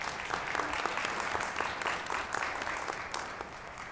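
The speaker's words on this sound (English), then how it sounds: "let's have a round of applause for our moderator and panelists" An event audience gives the moderator and panelists a sustained round of close, dense clapping at a steady level, with no one speaking.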